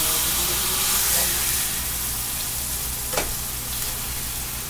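Burgers sizzle steadily in a seasoned fry pan, a loud, close, continuous hiss and crackle with a brief clatter near the end, no talking.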